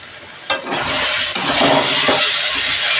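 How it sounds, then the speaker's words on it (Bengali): Pointed gourd (potol) pieces fry loudly in a pan for a potol curry, a dense continuous sizzle with a few stirring scrapes and surges. "এই দেখো পটলগুলো একটু ভাজা ভাজা হয়েছে"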